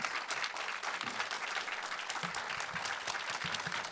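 A welcoming round of applause greets producer Itai Tamil at a film Q&A, a continuous, even crackle of clapping from a seated audience, moderately loud and unbroken.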